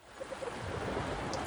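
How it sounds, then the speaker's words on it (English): Ocean waves crash in the video game Anodyne 2, a soft, steady rushing wash that swells slightly over a second and a half, with a brief sharper sound at the very end. "from the silence, the crashing of waves"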